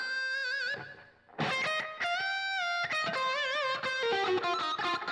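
An electric guitar lead tone through a Line 6 POD Go modeler, played as sustained, slightly distorted notes and short melodic runs with a wash of reverb trailing behind, loud and alone without talk.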